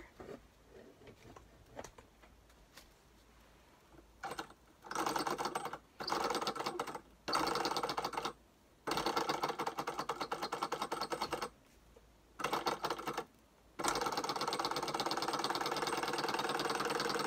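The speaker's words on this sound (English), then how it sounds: "This is what a Stirling engine looks like running." A small Stirling engine running on a tabletop gives off a rapid, dry mechanical clatter. It starts in short bursts separated by quiet gaps, then settles into a steady, continuous run near the microphone.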